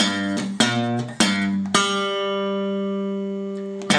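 A guitar plays a delta blues riff, with a few plucked notes struck in quick succession and the last one left to ring, clear and close.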